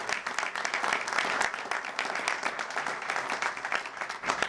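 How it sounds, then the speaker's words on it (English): Audience applause at a bill-signing event held at LSU, where a Louisiana governor signs an education act; dense, steady clapping from a crowd fills the whole stretch at even loudness, with no voices over it. "So let's give the folks at LSU a great round of applause as well."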